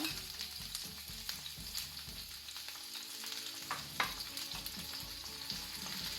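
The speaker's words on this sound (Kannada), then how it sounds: "ಆನಿಯನ್ ಸರಿ ಫ್ರೈ ಆಗಲಿ" Steady sizzling of onions frying in hot ghee for squid sukka, with occasional stirring scrapes and a low hum underneath, close and continuous.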